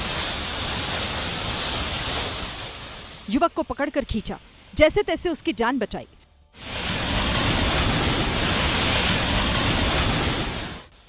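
After heavy rain, a swollen storm drain rushes across Dehradun's Shimla Bypass road in a loud, steady roar that drops out briefly while a voice narrates, then surges back.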